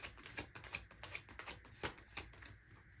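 Tarot cards shuffled quietly in a run of soft, close riffling flicks, repeated at a steady rhythm.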